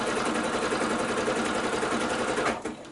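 A sewing machine runs steadily at close range, stitching binding onto a quilt with a continuous dense whir. It stops abruptly near the end.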